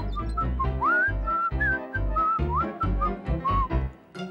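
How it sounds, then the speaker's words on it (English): A cartoon bird whistles the same short tune over and over, bright rising and falling notes heard up close over a bouncy backing beat. "Ronald suddenly found that the TickTick Bird's whistling really annoyed him"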